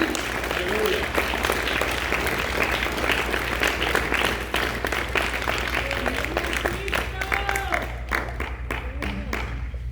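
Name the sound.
congregation applauding in church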